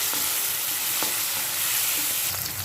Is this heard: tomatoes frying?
yes